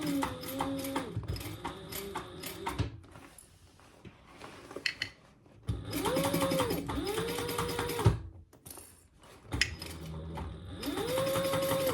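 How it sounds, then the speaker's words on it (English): A sewing machine top stitches a lined boxy bag closed along its turning hole, running in loud bursts of steady whirring separated by short pauses, with a quieter stretch in the middle. "let's top stitch that turning hole closed."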